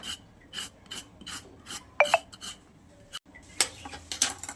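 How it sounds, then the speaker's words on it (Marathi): Ridges are scraped off the skin of a ridge gourd in a home kitchen, a series of short rasping strokes, close and fairly loud, with light clicks between them and no talk. "हे दोडक्याचे शिरा आहेत ना, हे थोडेसे आपण असं हे करून काढूयात, असं थोडेसे घासून काढूयात"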